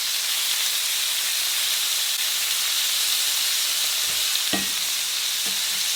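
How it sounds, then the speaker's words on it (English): Steady, loud sizzling of chicken frying in hot oil, a continuous bright hiss with a couple of faint knocks near the end. "So I'm gonna fry this only for like 3 to 4 minutes here."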